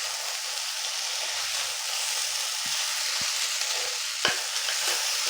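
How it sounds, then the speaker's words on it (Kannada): Veg noodles are tossed and stirred in a hot pan over a high flame, with a steady sizzling hiss and a few sharp scraping taps from the spatula, no talking. "ಇದು ಹೈ ಫ್ಲೇಮಲ್ಲೇ ಯಾವಾಗಲೂ ಮಿಕ್ಸ್ ಮಾಡಬೇಕು."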